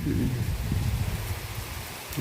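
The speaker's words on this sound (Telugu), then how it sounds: "వర్షం చూడండి పంచలోకి వచ్చేసింది" Heavy rain pouring at night into a home's verandah, during a power cut. The downpour is a steady, dense wash of noise that stays loud and close for the whole stretch, with no voices.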